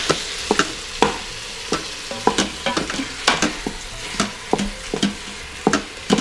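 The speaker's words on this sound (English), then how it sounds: "So we're just gonna brown the meat" Ground beef and pork-and-beef sausage browning in an Instant Pot, a steady sizzle broken by repeated sharp scraping clicks of a utensil stirring the meat against the pot, close and fairly loud with no talk.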